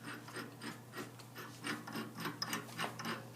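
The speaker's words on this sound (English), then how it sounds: "So you can actually loosen it a little bit with your hand to start," A drill press chuck is turned by hand to open its jaws, making a quiet, rhythmic series of short rasping, ratchet-like clicks and rubs at close range.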